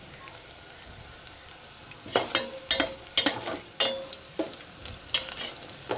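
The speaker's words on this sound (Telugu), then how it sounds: "ఇప్పుడు ఒకసారి కలుపుకుంటున్నానండి. మాడిపోకుండా ఇప్పుడు కొంచెం లైట్గా ఫ్రై అయ్యాయండి." Bean and tomato curry being stirred as it fries in a steel pan, with a steady sizzle broken by repeated scraping strokes of the spoon against the pan, close and fairly quiet.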